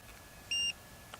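A FIMI X8 SE drone controller gives a single short electronic power-on beep, clear and high-pitched against quiet background hiss.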